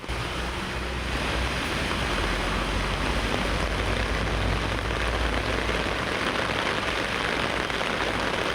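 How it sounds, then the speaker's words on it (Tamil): Heavy downpour lasting over an hour around Aranthangi in Pudukkottai district, Tamil Nadu: a dense, steady roar of rain, loud and unbroken throughout with no voices. "புதுக்கோட்டை மாவட்டம் அறந்தாங்கி சுற்றுவட்டார பகுதிகளிலும் 1 மணி நேரத்துக்கு மேலாக அடைமழை பெய்தது"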